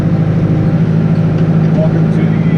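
A TL90 tractor's engine runs with a steady low droning hum during a farm ride, constant and close throughout with no clear pauses.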